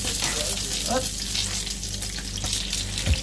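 Tofu fries in hot oil, which sizzles and crackles steadily, with a few brief clinks and spatters, close by.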